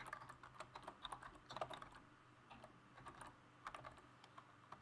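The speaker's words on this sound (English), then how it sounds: "I can just start typing" Fingers tap out quick bursts of keystrokes on a computer keyboard, close and fairly quiet, with brief pauses between clusters of clicks.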